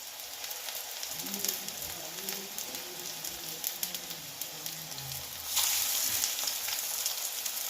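Prawn fritters fry in hot oil with a steady, dense sizzle and crackle, close and even throughout, growing louder and brighter near the end as more batter hits the oil.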